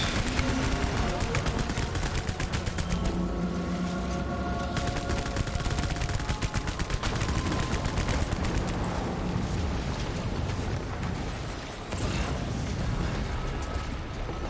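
Sustained rapid gunfire and explosions in Death Stranding, dense machine-gun bursts rattling nearly nonstop for the whole stretch with a brief dip near the end, loud and close, with a voice speaking over it.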